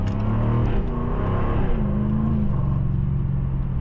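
A 2023 Jaguar F-Type R with a supercharged 5.0-litre V8 snarls loudly and close, with a steady, dense engine rumble that swells and shifts pitch as it revs, and no voices over it.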